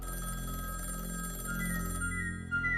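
A telephone rings repeatedly with no one answering, a steady electronic ringing tone at moderate distance with faint background hum.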